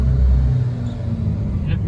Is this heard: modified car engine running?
yes